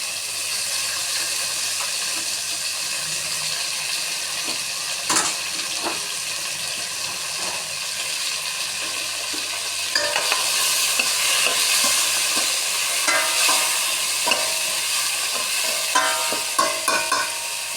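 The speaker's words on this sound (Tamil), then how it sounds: "தக்காளி போட்டுக்கிறோம்." Tomatoes frying and being stirred in a pan for a puri kurma, with green chillies already in: a steady close sizzle runs throughout, with scraping stir strokes and clinks growing busier in the second half.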